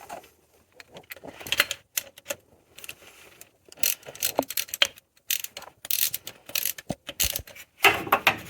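Ratchet clicking in rapid bursts as 10mm bolts are tightened on a Ford Escort Cosworth engine, close and loud with short pauses between runs of clicks.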